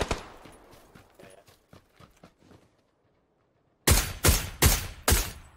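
Four loud, close suppressed SLR rifle shots crack out in quick succession near the end, fired in the video game PUBG, following a quieter stretch of faint footsteps and movement.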